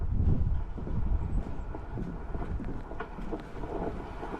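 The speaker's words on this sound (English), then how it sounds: "It's just too windy." Wind buffets the microphone outdoors at the old Fort Davis historical site, a loud, close, uneven low rumble that surges and eases in gusts throughout, with no voices.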